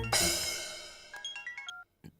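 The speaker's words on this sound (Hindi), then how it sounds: "हेलो, हाँ जी, पीएफ चंद्रशेखर स्पीकिंग। 10 मिनट बाद फोन कर रहा" A mobile phone ringtone sounds in a dubbed South Indian action film, a bright burst followed by a short rising and falling melodic sequence of electronic tones, then a brief pause and one more note.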